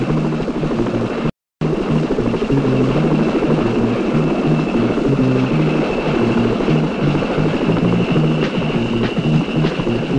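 Loud, continuous thrum of a PZL-Świdnik helicopter's rotor and engine, close and steady throughout, with one very brief dropout.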